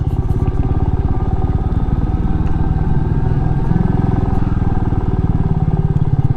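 Royal Enfield Meteor 350 motorcycle riding along a road, its single-cylinder engine thumping in a steady, loud, continuous rhythm close by throughout, with no talk over it.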